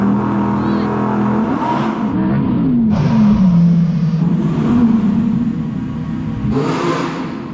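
Audi R8 on winter tyres launching in a drag race, a loud close engine roar climbing in pitch through several gear shifts with brief dips between them, with faint voices in the background.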